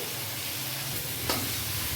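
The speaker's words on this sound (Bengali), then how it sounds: "তেল গরম হওয়ার পর আদা রসুন কুচি দিয়ে তারপর ক্যাপসিকাম পেঁয়াজ দিয়ে দেওয়া হয়েছে একটু ভাজা ভাজা হবে" Chopped ginger, garlic, capsicum and onion frying in hot oil, a steady close sizzle that holds level throughout with one small clink near the end.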